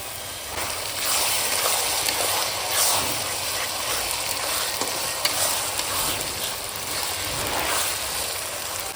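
Ground spice paste sizzles and fries with browned onions in a pan for Bengali mutton kosha, a constant close hiss broken by stirring scrapes.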